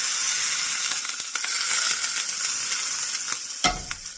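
Eggs frying in a pan over a lowered flame, a steady hiss and sizzle with scattered small pops and a brief clatter near the end, close and continuous with no talking.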